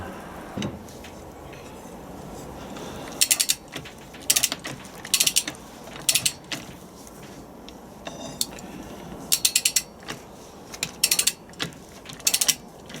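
Bolts being torqued with a ratcheting wrench on a Land Rover Defender TD5 LT230 transfer box, worked outdoors in snow: about ten short bursts of rapid, close metallic ratchet clicks separated by brief pauses, with no talking.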